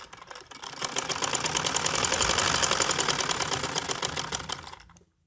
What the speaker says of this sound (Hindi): सेम इसी तरीके से मैं दूसरी साइड पे भी सिलाई लगा लूंगी।